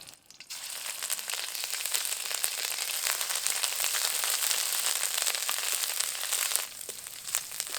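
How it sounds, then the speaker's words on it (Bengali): Ginger and garlic paste hits hot oil with nigella seeds and green chillies, producing a loud, steady, crackling sizzle that runs close and continuous with no talk. "এবার এর মধ্যে দিয়ে দেব খুব সামান্য পরিমাণ আদা আর রসুন বাটা"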